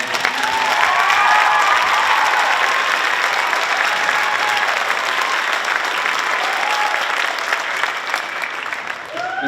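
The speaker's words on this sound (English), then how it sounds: "So a round of applause for them." An audience at a school string festival applauds steadily for several seconds, a dense wash of clapping from a large crowd that tapers slightly at the end.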